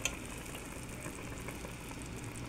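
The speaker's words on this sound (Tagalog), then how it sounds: "Ayan, kumukulo na." Chicken curry with coconut milk bubbling quietly in a pot, a soft, continuous simmering fizz with faint pops, heard close and low in volume.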